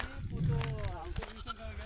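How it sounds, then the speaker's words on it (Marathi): A goat bleats up close on a wooded hillside, one wavering call lasting about a second, with a person speaking around it. "हे बघा हा आहे बकरा"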